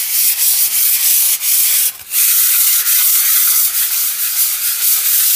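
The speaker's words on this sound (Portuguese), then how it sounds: "depois eu venho dando um acabamento com a lixa 220" Sanding a plastered wall smooth with 220-grit sandpaper gives a close, continuous scratchy rubbing with rhythmic strokes and one brief pause, with no talking.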